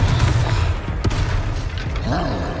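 In the video game Hogwarts Legacy, a Confringo blasting spell explodes in a dense, booming burst with rumbling noise that carries through the whole moment.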